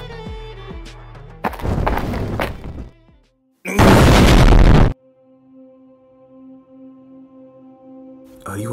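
Two loud explosions go off in the action game Black Panther and Killmonger: Code Black, separated by a short pause, with the second blast the heavier and longer. A low hum lingers afterward.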